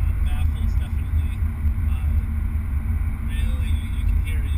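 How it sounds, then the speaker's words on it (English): Steady low engine drone from inside a car driven in sport mode with extra exhausts open, a constant rumble with little change in pitch. "You get two of the four exhausts open up in addition to the other two that are already open, and really changes the sound of the engine"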